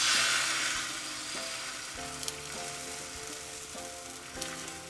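Egg sizzles steadily in a hot pan for a Kerala omelette, a close, even frying hiss with a few soft clinks from the pan.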